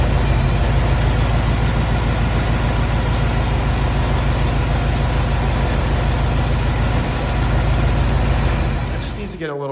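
A Ford Mustang with a TH400 automatic transmission runs steadily while a leak slings fluid, a loud, continuous engine rumble with a dense broadband roar that drops away at the very end.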